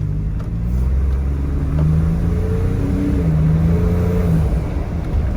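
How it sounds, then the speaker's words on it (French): A Ford F-150 Raptor's twin-turbo engine pulls hard under acceleration, a steady, full mid-range growl with a faint turbo whoosh over it, heard from inside the truck as the pitch climbs and falls slightly. "on entend déjà les turbos"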